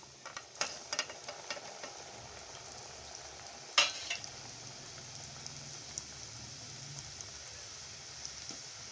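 Namak para pieces fry in hot oil with a soft, steady bubbling hiss, quiet and continuous, with a few sharp clinks of a utensil against the pan.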